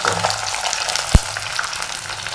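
Chopped small onions sizzle steadily in a hot pan with oil, ginger and garlic. The frying hiss is continuous and close, with one brief low knock partway through.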